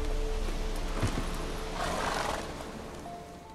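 A sick cow snorts heavily in The Witcher 3, over a low rumble of game ambience. The snort is a loud, breathy burst near the middle of the clip.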